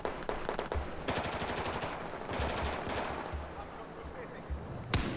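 Gunfire in Battlefield 4, with sniper rifle shots among rapid clusters of sharp cracks and a single loud report near the end, over a rumbling in-game battle backdrop.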